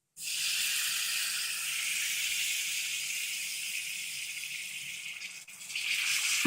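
Water poured into a hot pan of frying okra curry masala sets off a loud, continuous hissing sizzle close by, steady for several seconds before briefly dipping and then surging again.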